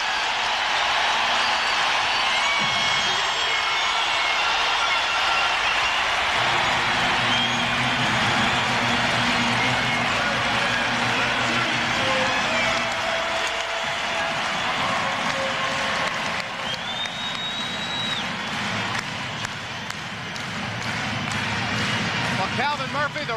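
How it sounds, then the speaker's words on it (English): A packed arena crowd roars at a Rockets vs Jazz playoff basketball game in the 1997 Western Conference Finals, a dense sustained cheer that rises and falls, with a commentator talking over it. "Listen to this crowd."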